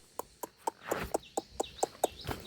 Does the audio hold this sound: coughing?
no